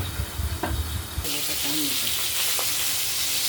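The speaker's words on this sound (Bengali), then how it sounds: "মাছগুলো ভাজা হচ্ছে" Rohu fish frying in oil: a soft clatter of handling at first, then a steady, close hiss of sizzling oil that swells and holds.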